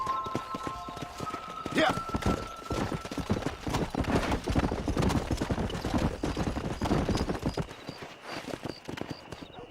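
Horse hooves clip-clop at a steady gallop in the Western video game Red Dead Redemption, loud and close throughout, with a brief voice over them.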